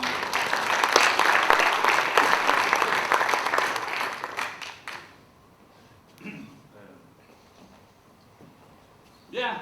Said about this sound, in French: je vous rappelle qu'il vaut mieux applaudir avant